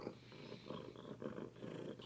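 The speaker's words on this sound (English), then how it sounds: "He's just a cat." A house cat purring close up, a soft rhythmic rumble pulsing with each breath, quiet and steady with no voices.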